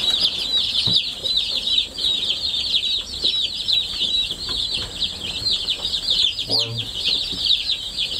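Dozens of baby chicks in a brooder cheep constantly in a shrill, overlapping chorus, close and steady, with a soft low thump near the end.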